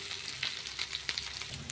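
Fish fries in a little oil in a non-stick pan, a close, steady crackling sizzle with bright spattering pops scattered across the short stretch, no voices.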